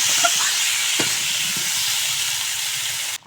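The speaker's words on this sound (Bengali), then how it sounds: "এখন একটু নেড়েচেড়ে টমেটোর সঙ্গে কষিয়ে নেব" Spices and tomato fry in a pan with a loud, steady sizzling hiss close up, a few faint stirring taps near the start, and the sound cutting off abruptly at the end.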